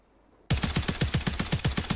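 Automatic gunfire from the video game Warzone breaks out abruptly after a quiet half second, a loud, close, rapid burst of rhythmic shots that runs without pause to the end.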